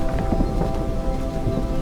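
Steady heavy rain pours down with a low rumble of thunder beneath it, dense and continuous throughout.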